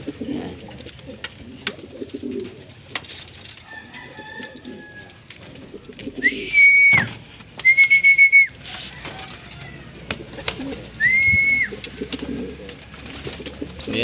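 Pet racing pigeons coo softly and intermittently in their loft, mixed with a few brief whistling tones against quiet ambient noise.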